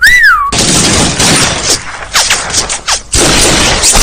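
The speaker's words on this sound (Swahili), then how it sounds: "Bili kuchapwa risasi." Rapid bursts of gunfire crackle loudly through a film scene, preceded by a brief rising whistle, with sharp volleys and short gaps between them.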